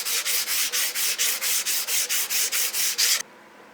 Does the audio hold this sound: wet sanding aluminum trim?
yes